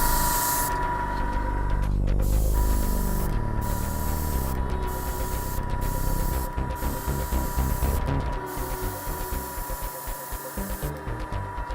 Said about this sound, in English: I apologize for the noise of my compressor.